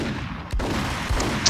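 Gunfire in the video game Max Payne 3, two sharp shots about half a second apart with a brief trailing crack, heard alone over low game ambience.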